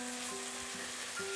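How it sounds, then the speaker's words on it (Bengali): Kachki fish and potatoes sizzle steadily in a pan over raised heat, a soft continuous frying hiss with faint stirring scrapes. "বাড়িয়ে দিয়ে হালকা হাতে নাড়তে নাড়তে রান্নাটা করব।"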